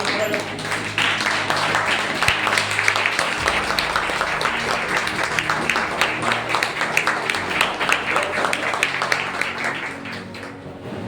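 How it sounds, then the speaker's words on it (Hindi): Loud, sustained clapping from a church congregation during a Hindi Sunday sermon, dense and continuous for the whole stretch with a steady crackling texture and no talk over it. "आइए पवित्र आत्मा के लिए हम लोग जोरदार तालियां बजाएंगे"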